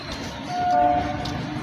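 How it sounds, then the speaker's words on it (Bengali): A train rumbles past close by, a low continuous roar swelling briefly, with a thin horn-like tone sounding through it. "যা ট্রেন চলে গেল যা"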